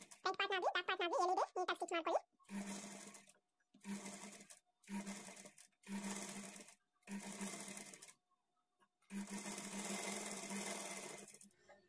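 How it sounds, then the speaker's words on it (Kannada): Sewing machine stitching a blouse sleeve to the body at a half-inch margin, running in six close bursts of rapid stitching separated by short pauses, the last burst longest, after someone speaks briefly at the start. "ಸ್ಲೀವ್ಸ್ನ ಎಡ್ಜು ಬಾಡಿ ಪಾರ್ಟ್ನ ಎಡ್ಜು ಈಕ್ವಲ್ ಆಗಿ ಇಟ್ಕೊಂಡು 1/2 ಇಂಚ್ ಮಾರ್ಜಿನ್ಗೆ ಸ್ಟಿಚ್ ಮಾಡ್ಕೊಳ್ತಾ"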